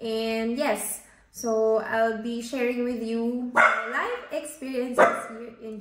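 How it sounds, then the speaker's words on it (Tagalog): A pet dog barks sharply several times in the background while a person keeps talking steadily over it indoors. "So sorry sa aso ko ang ingay."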